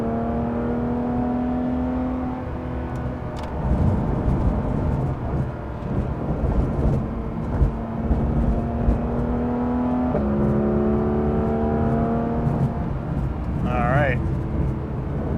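A Porsche 911 GT3 RS engine drones at a steady pitch, dips through a brief downshift, then climbs again under acceleration, heard from inside the car with a voice talking over it.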